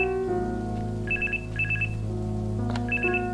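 Telephone ringing in the video game The Charnel House Trilogy, three short bursts of a trilling bell over a sustained musical drone, fairly loud and close, no speech.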